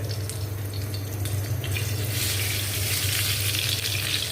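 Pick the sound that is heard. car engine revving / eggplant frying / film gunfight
eggplant frying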